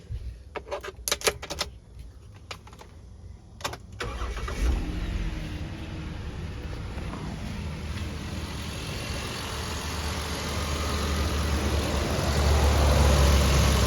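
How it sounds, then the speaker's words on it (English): Minivan engine swapped into a Jeep, heard after some clicks and a crank: it catches and settles into a steady, quiet idle that grows slightly louder and fuller toward the end, with no talk. "Very quiet for a motor with as many miles as this has on it."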